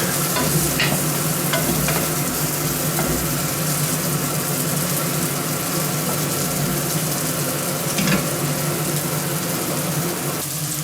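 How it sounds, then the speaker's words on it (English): Chorizo fries and stirs in a pan in a home kitchen, a steady close sizzle running throughout, with a few louder crackles, under the constant hum of an extractor fan and a boiling kettle. "Chorizo's cooking nicely there"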